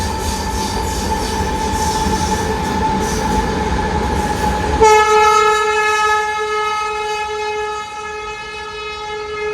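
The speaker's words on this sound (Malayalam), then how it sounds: "ഇപ്പുറത്തൂടെ ഇപ്പം ശതാബ്ദിയും വരുന്നുണ്ട് കേട്ടോ" A Shatabdi Express thunders past close by with heavy, loud rail rumble, then long sustained horn tones sound over the rolling wheels and continue to the end.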